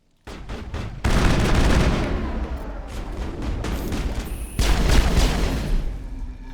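Pistol gunfire rings out in the Mass Effect video game, loud rapid bursts of shots and impacts layered over a dense wash of combat noise, with no talk.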